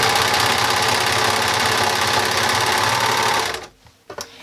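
A sewing machine stitches two layers of skirt fabric in one loud, steady run, then stops abruptly with a few faint handling knocks.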